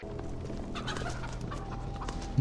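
A chicken clucks in a Ukrainian video game set near a military camp, giving short fowl calls over a low, steady game ambience, fairly close, with no speech.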